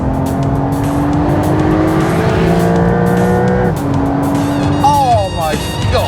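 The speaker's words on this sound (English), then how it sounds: "Listen to this engine, listen." A powerful twin-turbo flat-six sports car engine revs and roars up through the gears, rising pitch then dropping on shifts, loud and close.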